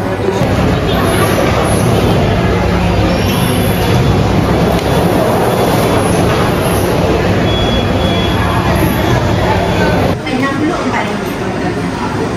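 Steady loud rumble of a full early-morning passenger train in motion in Malaysia, with a continuous high whine and faint chatter of voices in the background throughout.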